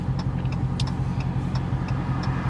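A Dodge Charger Scat Pack V8 with a mid muffler delete idles in a steady, deep, rumbling burble, loud and close with a constant low throb and faint ticks above it.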